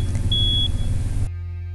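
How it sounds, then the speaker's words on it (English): A newly installed hardwired smoke detector gives one short, sharp, high test beep over a low steady rumble, then cuts off. "I'm just testing to make sure that the alarm's working."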